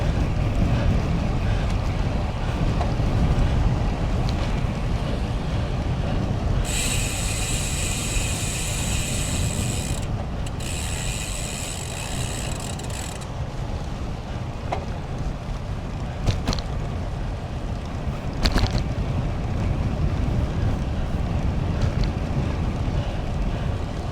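Steady roaring headwind buffeting the microphone while cycling on a road, a constant loud rumble throughout, with a brief tonal whine partway through and a few sharp clicks.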